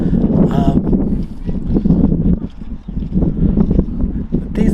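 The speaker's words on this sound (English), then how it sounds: "It's very windy, as you can probably hear." Strong gusts buffet the microphone over coastal salt marshes near Fort Mahon Plage in Picardy, France, a loud rumbling roar that surges and dips in uneven waves, with a person's voice briefly audible beneath it.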